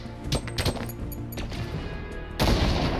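Grenade launcher rounds in Fortnite, several sharp impacts and blasts in quick succession followed by a louder, broader explosion near the end, close and punchy.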